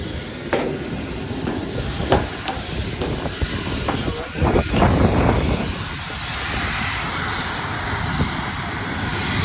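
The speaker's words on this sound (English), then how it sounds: "There's a private jet." A private jet's engine gives a loud, continuous nearby roar with a broad rumble. Scattered knocks and thumps sit on top, and the roar swells slightly midway before settling into a steady drone.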